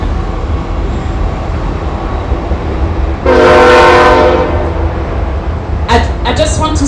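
A train passing in the US sounds its horn loudly for about a second amid steady rumbling background noise, followed by brief clanking bursts.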